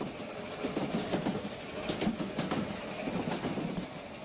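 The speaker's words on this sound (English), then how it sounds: "compound Mallet tank making easy work of the falling grades, but the twisting curves limit speed to a gentle trot" A compound Mallet tank steam locomotive pulls its train slowly along the twisting, falling grades of the Corgo line through vineyard country, a steady rolling rumble with rhythmic clickety-clack of wheels on rail joints.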